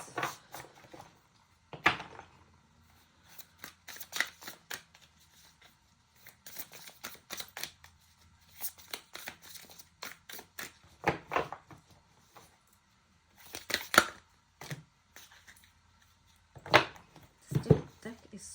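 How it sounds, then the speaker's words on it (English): Tarot cards shuffled by hand at a reading, giving irregular bursts of crisp riffling and slapping clicks scattered over several seconds, close and moderately loud with pauses in between. "So difficult to shuffle."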